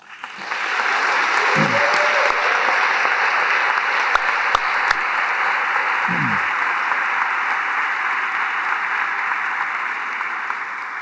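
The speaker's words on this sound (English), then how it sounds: "Please join me in giving a warm, rousing round of applause for President Paul O'Reilly." Sustained audience applause at a college commencement ceremony, a dense steady wash of clapping from a large crowd that runs the whole length, with a couple of faint low thumps partway through.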